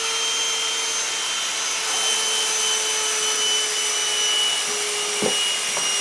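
A Black + Decker Dustbuster Pivot hand vacuum runs continuously with a steady high-pitched motor whine and airy rush, close and loud, while sucking up punched paper bits from a tabletop, with a brief clatter near the end.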